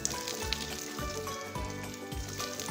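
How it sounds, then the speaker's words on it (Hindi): Ginger garlic paste with cubed onion and capsicum frying in a pan for chicken chilli, a continuous crackling sizzle with occasional low thumps and tonal hum in the background. "अदरक और लहसुन के पेस्ट को बिल्कुल हल्का सा आपने फ्राई करना है।"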